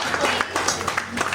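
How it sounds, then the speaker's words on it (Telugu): Guests at a first birthday party clap together in a short burst of applause, fairly close and lively, with voices mixed in. "అందరు కూడా గట్టిగా క్లాప్స్ కొట్టాలండి ఒకసారి"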